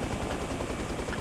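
A helicopter in Arma Reforger makes a brief, continuous rotor and engine rumble at moderate level.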